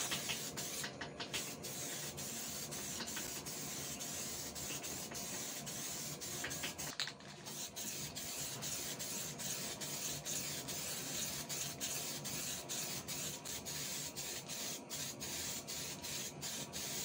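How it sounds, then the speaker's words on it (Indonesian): A spray gun lays Super White 9103 paint onto a Honda Vario 125 motorcycle body in a long, steady, unbroken hiss, close and even, with only brief pauses in the spray. "Untuk kali ini kita semprot 3 lapis biar nutup benar-benar rata"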